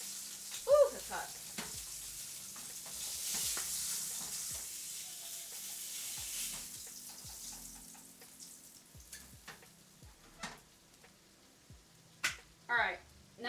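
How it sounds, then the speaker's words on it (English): Food sizzles and hisses steadily in a hot pan at close range, followed by a few scattered clinks and scraping knocks. "now that that's done sizzling"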